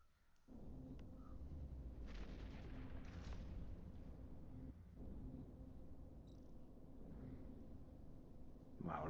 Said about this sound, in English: look at the weapon fire coming in